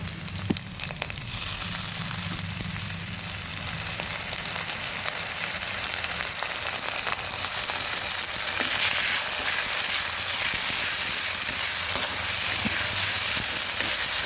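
Onion paste fries with ginger and garlic in a pan for a dish of hilsa fish head with shola kochu, giving a loud, dense, unbroken sizzle close by with no talk.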